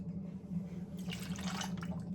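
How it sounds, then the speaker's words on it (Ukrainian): Milk poured into a cooking pot for macaroni, a soft splashing pour starting about halfway through over a steady low hum from the kitchen. "Заливаємо молоко."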